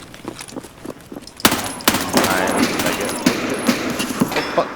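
Gunfire in the video game Escape From Tarkov erupts after a quieter start, a dense, sustained stretch of rapid shots and overlapping bursts that keeps going to the end, with some faint game sound mixed in.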